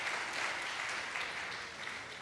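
A church congregation applauding a couple married 44 years, a dense, even wash of many hands clapping in a large room, sustained throughout.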